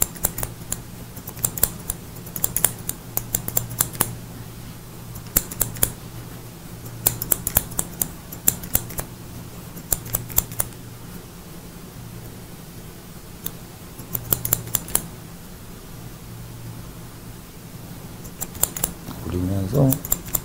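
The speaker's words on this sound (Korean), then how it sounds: "여기 조금 더 가위로" Hairdressing scissors snip through hair during a mohican cut at a beauty school, coming in quick close bursts of crisp clicks separated by pauses, while a steady low hum runs underneath.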